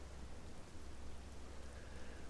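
Steady rain falls without a break, a dense, even wash of drops at moderate loudness with no voices or other sounds over it.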